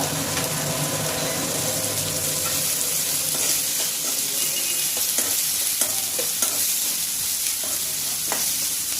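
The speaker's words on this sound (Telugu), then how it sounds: "ఫ్లేమ్ కొంచెం హైలో పెట్టుకొని కొంచెంసేపు అట్లా వేయించుకుంటే బాగుంటుంది" Vegetables with curry leaves and salt frying over a high flame in a pan for spicy Rayalaseema uggani, a steady loud sizzle with scraping stirring sounds throughout and no talk.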